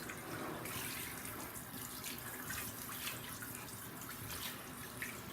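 Water runs steadily from a tap into a bathtub while a child is rinsed, a continuous close rushing splash with no talking.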